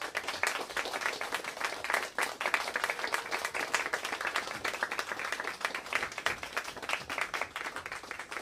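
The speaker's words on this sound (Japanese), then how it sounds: "大きな拍手お願いします。" An audience at the 8th NSC Challengers Live claps to welcome special guest Leroy, a steady stream of many hands that continues evenly for several seconds, with no voices on top.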